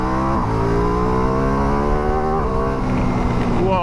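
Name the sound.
Ducati Multistrada V4 Rally motorcycle accelerating in enduro mode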